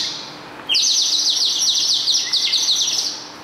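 A shrill warbling whistle trills rapidly for a few seconds, close and loud, like a bird chirping, produced by a water-filled clay whistle imitating birdsong.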